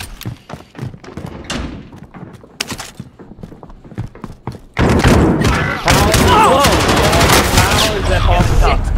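Video game gunfire aimed at the player, rapid bursts of shots and thuds that erupt midway into a loud sustained barrage, with excited voices talking over the first half.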